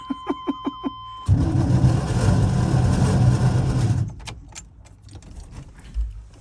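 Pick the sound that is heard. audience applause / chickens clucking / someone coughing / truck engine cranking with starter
truck engine cranking with starter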